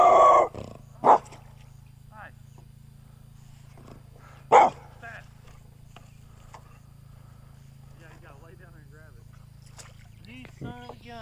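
A dog barks beside a small pond during bass fishing, giving a couple of sharp, separate barks spaced a few seconds apart, with people talking briefly at the start and end.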